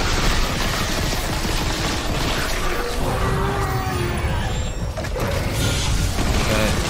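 In the Dead Space Remake video game, a weapon fires continuously until the magazine is empty, loud dense mechanical gunfire and crashing effects that hold at a steady level.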